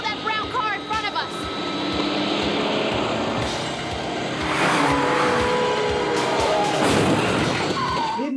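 A car chase in a 1989 Hong Kong action thriller plays out with roaring engines, squealing tyres and rising crash-like noise, and a voice speaks briefly near the start.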